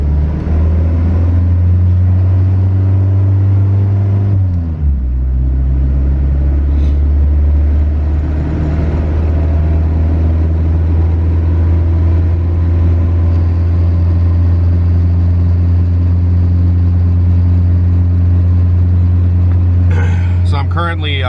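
A Honda Civic with a B20 VTEC engine runs on a dyno, holding a loud, steady low rumble with a brief dip in pitch early on, close and continuous throughout.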